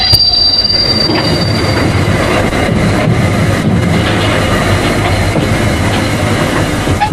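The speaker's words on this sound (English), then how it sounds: "The wagon with conventional bogies cannot make it and grinds to a halt in the curve as the result of flange rail friction" A railway wagon on conventional bogies grinds through a curve, flange rubbing against rail in a loud, continuous metallic screech with a high squealing whine early on and steady rumbling underneath, close and unbroken.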